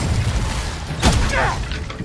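A burst of spell impact erupts about midway, a sharp booming blast followed by a crackling whoosh, set against busy game background noise in Hogwarts Legacy.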